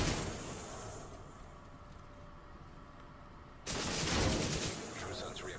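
A machine gun in The Division 2 video game fires a loud sustained burst that starts suddenly partway through, after a quieter stretch of game ambience.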